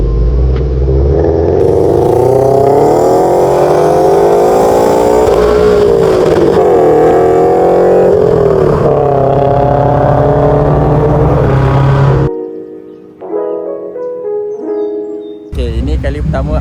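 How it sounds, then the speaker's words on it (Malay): Several car engines rev loudly and close during an early-morning convoy of cars heading up to Genting, a sustained throaty roar with rising and falling pitch that cuts off abruptly near the end. "Kat sini banyak gila kereta, macam-macam kereta."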